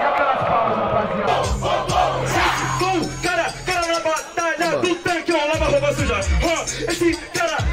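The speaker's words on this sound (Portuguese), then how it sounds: "E aquelas palmas, rapaziada?" A crowd at a rap battle cheers and shouts loudly, whoops and yells swelling and overlapping in a rowdy roar, with a deep rhythmic beat thumping underneath.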